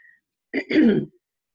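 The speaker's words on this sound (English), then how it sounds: "let me clear my throat." A single short throat clear from one person, a quick rough two-part rasp lasting about half a second, close and isolated in otherwise quiet surroundings.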